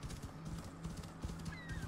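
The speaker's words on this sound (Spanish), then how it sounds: "Fobos ya sabéis que es nuestro Land Rover particular. Es un 4x4 en forma de caballo." Horse hooves clip-clop in a steady galloping rhythm from a mount in the game Assassin's Creed Odyssey, close and continuous, with a brief whinny-like whistle near the end.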